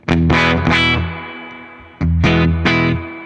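Distorted Gibson Les Paul Standard Plus electric guitar from 2008 played on the bridge pickup: two loud, ringing chord phrases, each with a few sharp strums, separated by a brief near-silent gap, with no voices.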